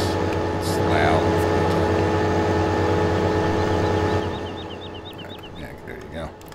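A loud farm tractor engine in a farming video game drones steadily at close range, then drops to a quieter hum partway through, while someone talks over it.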